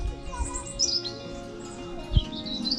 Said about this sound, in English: Birds singing.